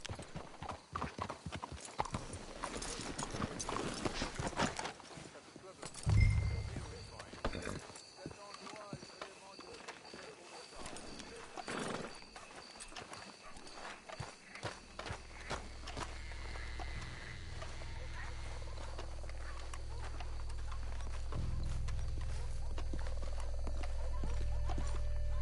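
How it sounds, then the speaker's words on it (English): Horses' hooves clip-clop at a walking pace in Red Dead Redemption 2, close and steady, alongside a brief whinny or snort and a rising rumbling background in the later part. "Let's hitch the horses up ahead."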